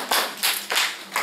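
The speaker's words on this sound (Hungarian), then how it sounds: "végre valahára tapsoljuk meg a doktornőt" An audience claps its hands for a doctor at a club-day gathering, with four short bursts of applause sounding close and fairly loud, and no voices over them.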